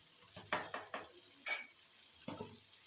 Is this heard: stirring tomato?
yes